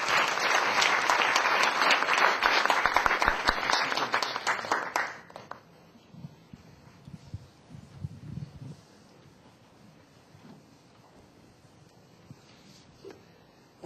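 A church audience at an evening camp session claps loudly and steadily for the first five seconds, welcoming a pastor to the stage. The applause then cuts off abruptly, leaving a quieter room with scattered faint sounds.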